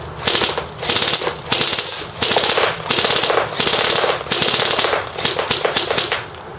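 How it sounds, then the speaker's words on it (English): A G&G F2000 airsoft rifle fires BBs into a trap in rapid full-auto bursts. Several sharp, mechanical strings of shots come up close and loud, each burst separated by brief pauses, with no voices over them. "I'm just going to shoot it into a trap."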